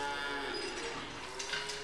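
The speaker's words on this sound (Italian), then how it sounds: "Ma no, Brenno, le vacche sono buone e soprattutto sono erbivore" Cows on a Grana Padano cheese dairy farm give a drawn-out low moo at moderate distance, with faint barn background around it.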